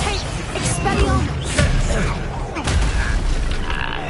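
An explosive spell goes off in the Hogwarts Legacy video game, with dense, loud booms, rumbling blasts and crashing impacts layered over continuous battle noise.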